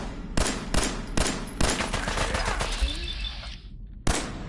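Gunfire in the Fallout 4 video game: a string of sharp, loud shots in a rapid irregular burst, a trailing ringing tail, then a short silence and one final shot.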